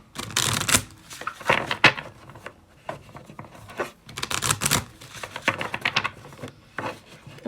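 Lenormand cards are shuffled in several quick riffling bursts separated by short pauses, close and crisp.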